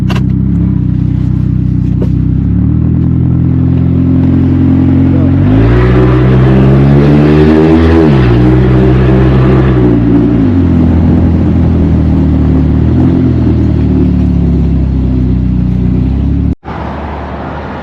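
An abandoned Ford Escape's engine runs loud and close as it drives and turns around, holding a steady drone that swells into a rising rev midway before settling back, with no voices over it.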